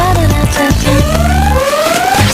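A loud alarm rings in a Polish radio advertisement, its warbling tones sweeping up and down continuously over a steady electronic bed.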